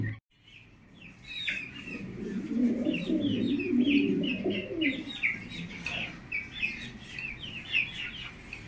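Pigeons kept as breeding pairs for sale coo in a low, repeated, overlapping murmur, with chirps and tweets from other birds above it, close and fairly loud throughout, no talk.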